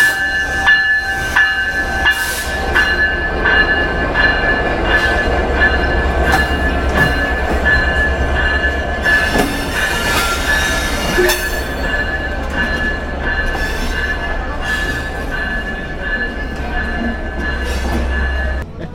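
A train pulls into Darshana Halt station, its loud, continuous rail rumble and clatter of wagons carrying on throughout, with metallic wheel squeals and rattling layered over a deep, steady low drone.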